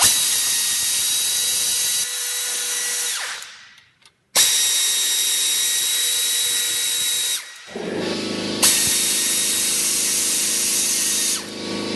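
A cordless power driver spins out Torx T20 screws from a locking hub cover on a Ford F250/F350 Super Duty 4x4 front axle, several loud close whirring runs with brief pauses and pitch changes between them.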